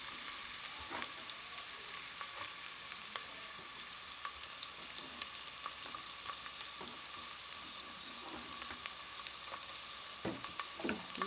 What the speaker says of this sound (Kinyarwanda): Igitunguru turagikaranga kugeza gihiye.